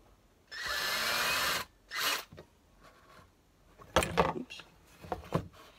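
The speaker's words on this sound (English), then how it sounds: "take our drill, and all I'm gonna do is put little pilot holes in it first" A power drill bores pilot holes for a fence jig for a Proxxon hot wire table, with one longer high whirring burst and then a short second one, followed by scattered clicks and handling knocks.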